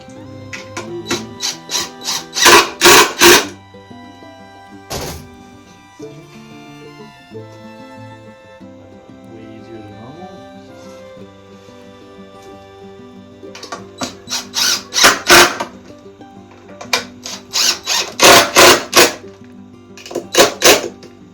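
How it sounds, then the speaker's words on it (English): Short, busy bursts of a power driver sink screws into a taxidermy raccoon bottle opener, with two clusters of rapid whirring pulses separated by a quieter stretch of handling and mechanical rattling. "The first screw is always the hardest because you got to kind of hold everything in place."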